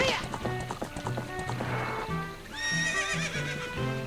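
Epona, the horse in Zelda: Ocarina of Time, gallops with a rhythmic clip-clop of hooves, then lets out a high, wavering whinny, all over game music.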